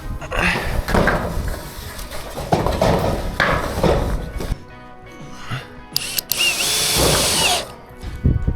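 A power drill whirs in loud bursts, pausing between runs, with a high-pitched grinding spell near the end as it bites into T18 metal roof sheeting.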